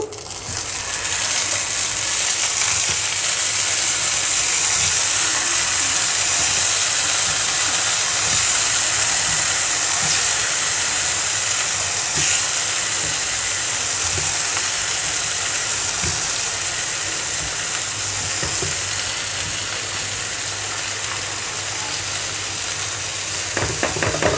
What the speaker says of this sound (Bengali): মরিচগুলো ভেজে নিয়েছি দিয়ে দিচ্ছি টমেটো